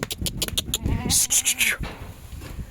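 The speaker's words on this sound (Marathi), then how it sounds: "ह्या शेळ्या मी घरी ठेवलेल्या आहे" Several goats bleat in quick succession, a cluster of wavering nasal cries close to the microphone over a rustling, noisy background.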